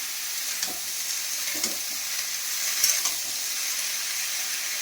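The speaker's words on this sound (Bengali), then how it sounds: "চিচিঙ্গাগুলোকে ভাজি করবো।" Snake gourd frying in a pan, with a steady hissing sizzle throughout and a few soft stirring scrapes and knocks near the microphone.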